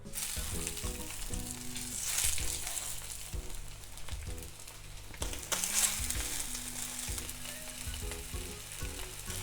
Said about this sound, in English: The frying pan is heated. I'm going to put in the salmon.